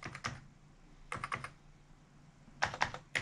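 Keys on an Atari STFM computer keyboard are pressed in three short bursts of quick clicky taps separated by pauses, close and fairly quiet, with no talk.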